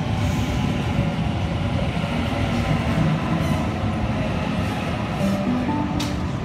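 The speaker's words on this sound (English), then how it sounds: "A50 approaching platform 3." Sydney Trains A set train pulling into platform 3 at Eastwood station, a loud continuous rumble of wheels and carriages rolling close by with faint metallic squeals.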